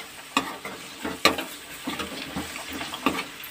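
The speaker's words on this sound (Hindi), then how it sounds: "और अब साथ में हम हल्दी पाउडर और ज़ीरा ऐड कर देंगे इसमें, और अभी अच्छी तरीके से मिक्स कर लेंगे इसको" Potatoes tossed with turmeric and cumin in a frying pan, a few close scraping stirs against a soft steady sizzle over about three seconds, with no voices.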